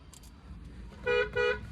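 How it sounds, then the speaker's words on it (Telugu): A 2015 Maruti Suzuki S-Cross diesel's horn honks twice in quick succession, loud and close, over a low rumbling background. "హార్న్ కూడా ఓకే"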